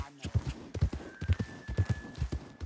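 Horse hooves clip-clop at a steady walking rhythm in Red Dead Redemption 2, the White Arabian horse moving close and fairly loud, with game ambience and a faint voice underneath.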